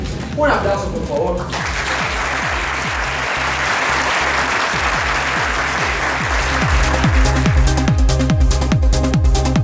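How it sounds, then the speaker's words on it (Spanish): Audience applause at an award ceremony in Colombia for a political website prize, sustained dense clapping that swells and holds steady throughout, with voices murmuring beneath. "Un aplauso, por favor."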